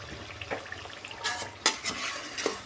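Madata kaja pastry frying in hot oil, a soft, steady sizzle broken by sharp ladle scrapes and clinks against the pan, close up.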